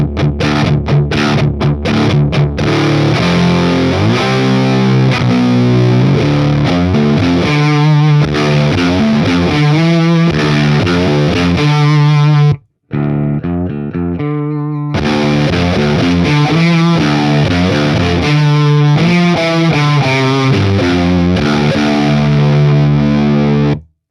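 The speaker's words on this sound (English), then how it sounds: "It's got a real point where it kind of hits, maximum fuzz, actually." Electric guitar through a Beetronics Fatbee overdrive pedal with gain near maximum, giving loud, thick, saturated fuzz as chords and riffs ring out continuously, with one brief cut to near silence midway before the playing resumes.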